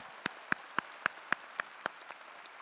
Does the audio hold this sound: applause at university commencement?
yes